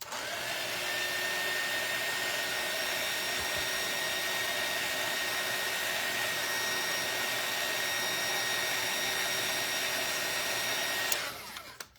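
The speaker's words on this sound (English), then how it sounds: "I'm going to use my heat gun real quick." A heat gun drying acrylic paint gives a loud, steady blowing whir, close and unbroken for about eleven seconds, then it switches off abruptly.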